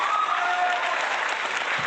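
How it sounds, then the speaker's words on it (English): Recorded applause sound effect played during an online industry panel, a dense, even wash of clapping and crowd cheer that stays loud and steady from start to finish. "let's give a big virtual round of applause for this amazing panel today"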